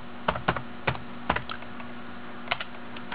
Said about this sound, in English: now we're going to type in /Flasher